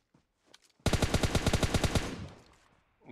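A rapid automatic weapon fires in PUBG Mobile, about fifteen evenly spaced shots in a loud, close burst lasting just over a second, then a decaying tail. No one speaks over it.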